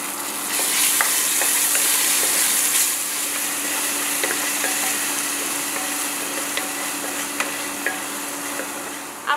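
Masala of ginger garlic paste and deghi red chilli powder frying steadily in a pan for chole, a constant close sizzle with occasional light scrapes and clicks of stirring, no talking.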